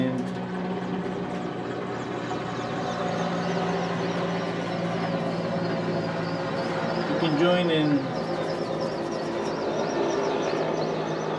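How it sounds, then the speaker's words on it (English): A helicopter flies low overhead, its engine drone and rotor hum steady in the background while a person speaks over it. "It's just this helicopter. Just it looks like pretty down, pretty over my head."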